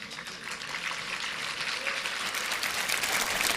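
An audience claps together at a ceremony opening nurseries in Istanbul, dense continuous applause that builds slightly in loudness over a few seconds, with no voices standing out.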